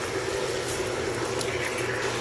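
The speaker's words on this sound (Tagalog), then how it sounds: "medyo lakasan natin yung apoy para maprito-prito siya" Meat sizzling in a hot pan over high heat with bay leaves and pepper, a steady dense crackle close by with no pauses.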